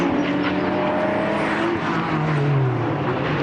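GT4 race cars, a Ford and a Porsche, run down the straight at the Darwin circuit, their engines giving a loud, steady roar that holds without a break.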